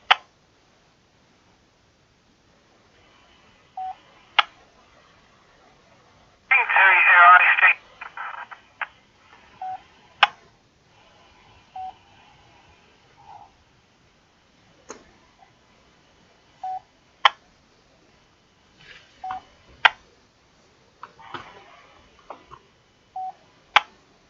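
Analogue radio transmissions come through a quiet channel as scattered key-up clicks and brief tones, with one short burst of noisy, garbled signal that could be distant shouting; mostly sparse pops separated by silence.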